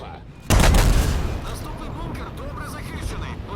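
A loud gunshot bursts out in a World War II battle game set during Operation Overlord, followed by a decaying rumble and scattered distant gunfire.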